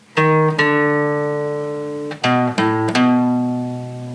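A guitar plays the closing two bars of a practice piece: a few plucked notes and chords ring out close and clear, each allowed to sustain and decay, with no voices.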